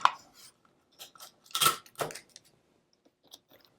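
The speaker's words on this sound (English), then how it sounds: "so I'm just going to put a little bit of tape right up here" Tape being pulled off a roll and snipped while securing heat transfer vinyl on a hat blank, a few sharp, close bursts of tearing and clicking separated by quiet gaps, no voices.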